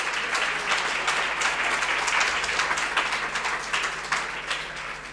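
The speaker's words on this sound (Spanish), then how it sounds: "Denle un aplauso fuerte al Señor" A church congregation claps and applauds for the Lord in a steady, dense wash of many hands. The sound is moderately loud and continuous throughout, with no talk over it.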